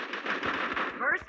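A rapid-fire weapon rattles off a quick, near and fairly loud burst of shots in a shooting video game, ending with a brief higher-pitched tail.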